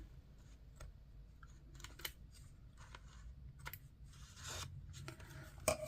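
Scissors snip through tape in a few short, quiet cuts, with soft rustling and tapping of tape and paper on a desk close by.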